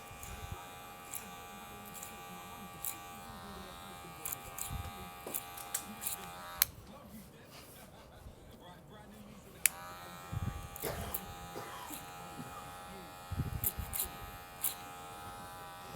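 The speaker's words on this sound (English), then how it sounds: "I'm going to do a bit of clipper over comb going forward with it" Electric hair clippers buzz in a barber's clipper-over-comb cut on a skin fade, a close, steady hum broken by brief pauses and light clicks, with someone talking over it.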